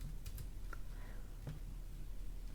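Computer keyboard typing while entering Python code, a few scattered light key clicks at close range over a steady low background hum.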